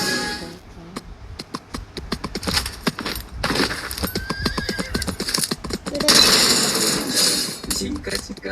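A horse whinnies over rapid clip-clopping hooves in a Minecraft-style map game, with sharp clicky impacts in a dense, fast rhythm and a louder burst near the end.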